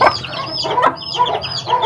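Chickens, roosters and hens, cluck loudly and close in quick repeated calls with no talk.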